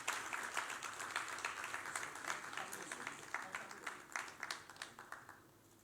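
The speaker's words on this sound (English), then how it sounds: "Can we please have a round of applause?" A round of applause from an audience at the grand inauguration of Glenrich International School in Dhaka, Bangladesh, as a government minister accepts a token of appreciation. The clapping is faint and distant, steady at first, then thins into scattered claps before fading out.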